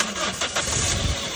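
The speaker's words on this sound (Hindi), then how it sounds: "ये गाड़ी बंद हो गई, स्टार्ट करो" A car engine is started again after being switched off, with a short cranking catch that settles into a steady close idle, fairly loud and with no one talking.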